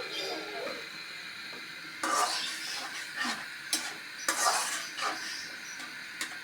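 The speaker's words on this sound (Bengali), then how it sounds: "পানি দিয়ে ভালো করে কষাবো।" A spice paste with turmeric and water stirred and fried in a pan, with scattered scrapes and clinks of a utensil against the pan over a soft sizzle.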